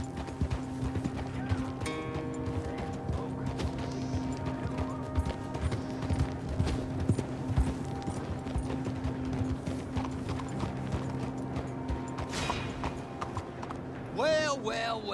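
Horse hooves clip-clop steadily in Red Dead Redemption 2, a continuous rhythmic trotting beneath game music and character dialogue, with a brief whinny near the end.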